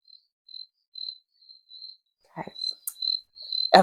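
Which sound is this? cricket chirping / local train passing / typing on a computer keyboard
cricket chirping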